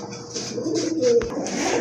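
A pair of pigeons for sale, a Rajgolla tiger-colored black and white pair, coo nearby in soft repeated throaty notes that continue through the short stretch.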